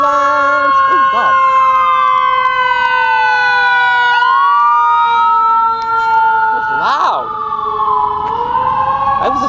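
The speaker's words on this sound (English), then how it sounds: "That was a siren." A loud ambulance siren wails up close, its pitch sweeping slowly up and down and shifting as the vehicle passes, with brief other sounds breaking in.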